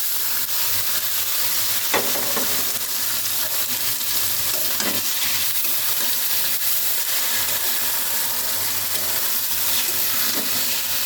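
Marinated rice stirred into a pan of ghee-fried raisins and cashews for Bengali sweet Basanti pulao sizzles in a steady hiss, with occasional scraping knocks of the spoon and no talking.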